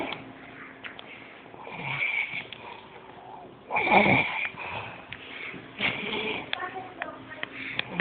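Several babies snoring, with soft snorts and wheezy breaths repeating through the stretch and a louder burst midway, while voices talk over them.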